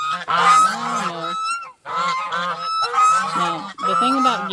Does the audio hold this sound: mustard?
no